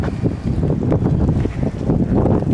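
Gusty wind buffets the microphone with a loud, rough, continuous rumble that rises and falls in uneven bursts.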